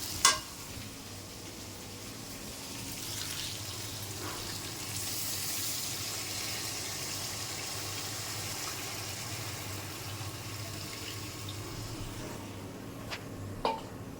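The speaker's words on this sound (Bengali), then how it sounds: "আমার মশলা ভুনা হয়ে গেছে, এখন জল দিয়ে দেবো।" Water is poured into fried spice paste for mustard hilish curry, the pan hissing into a broad sizzle that swells mid-way and settles, with a couple of sharp clinks at start and end.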